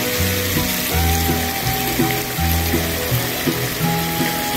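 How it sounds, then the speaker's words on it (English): A homemade pool fountain made of 1.5-inch PVC with end caps, a T, an elbow and a valve, driven by a strong pump, sends a steady, continuous hiss of spraying water across a pool, with tonal sounds running underneath. "Our pump's pretty powerful, and it'll shoot clean across the pool."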